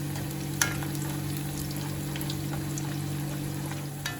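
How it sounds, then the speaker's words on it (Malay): Garlic frying in hot oil, a steady close sizzle with faint stirring clicks and a couple of brief clatters, no talking. "Jadi kita kena buat adalah goreng bawang putih itu sehingga dia garing."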